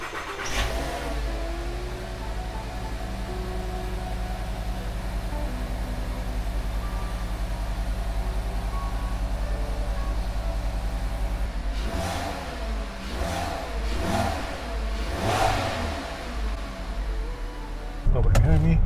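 A 2015-era VW Jetta with the 2.5 engine, fitted with new ignition coils and NGK spark plugs, starts up and idles steadily, then revs in several sharp bursts; a voice talks briefly over it.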